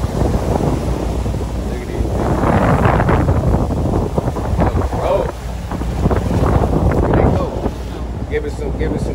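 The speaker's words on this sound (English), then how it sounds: "These some big waves" Big waves slap and wash against a moving boat amid heavy wind buffeting on the microphone, surging in uneven bursts with engine rumble beneath and a voice speaking intermittently.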